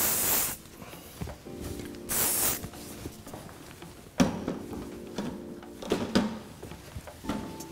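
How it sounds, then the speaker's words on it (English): Hairspray sprayed onto hair while styling a quiff, two short hissing bursts near the start and further sharp spritzes later, close and fairly quiet among soft handling sounds. "Hairspray."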